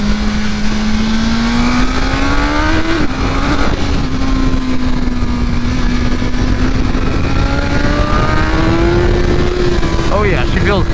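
A 2023 BMW M1000R motorcycle with a BT Moto ECU flash tune rides and accelerates, its loud engine note rising and falling steadily through gear changes with a brief shift partway through, heard up close throughout.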